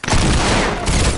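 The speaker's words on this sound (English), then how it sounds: "They're just gonna spam their SMGs like everybody does." SMG fire in an online shooter game: a dense, loud, continuous rattle of rapid shots that fills the whole short stretch without a break.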